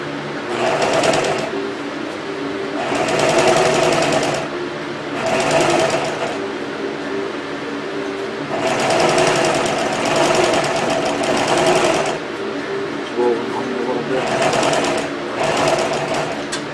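A sewing machine stitches golf cart seat upholstery about a quarter inch from the edge in several loud, rapid bursts separated by short pauses.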